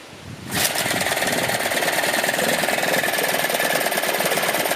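An abandoned Yamaha outboard motor found in a dumpster starts up and runs loudly and steadily at close range, a harsh rapid knocking drone that holds constant after it kicks in, with no talking over it.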